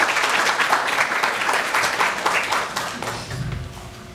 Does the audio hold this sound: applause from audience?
yes